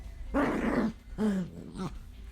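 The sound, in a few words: dog growling while playing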